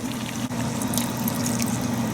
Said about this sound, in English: and then add this additional water.